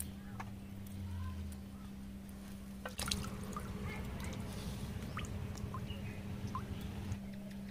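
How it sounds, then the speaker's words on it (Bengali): Cut hilsa fish are washed in pond water, with faint splashes, trickles and drips over a steady low hum, quiet and somewhat distant. "এবার পুকুর থেকে ভালো করে ধুয়ে নেবো মাছগুলো।"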